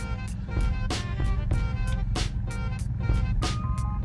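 Rapid, loud reversing beeps repeat in a steady rhythm over a running engine as a car backs up during a Florida driving test.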